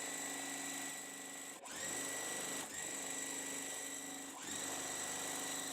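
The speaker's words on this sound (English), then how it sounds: "Notice that they're touching, and I'm going to just sew." A sewing machine stitches quilt pieces together in a steady, loud whirring run, briefly dipping in pace a few times before carrying on.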